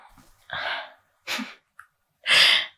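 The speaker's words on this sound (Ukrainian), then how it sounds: "я просто чихнула" A few short, breathy bursts, the last one loud and sharp like a sneeze, with quiet pauses between them and no talking.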